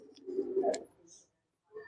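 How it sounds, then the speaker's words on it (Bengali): Pigeons, black-pearl-eyed racing birds, give low soft coos up close, a short rolling call followed by a pause and another coo starting. "সব কালো দানা চোখের পায়রা এগুলো"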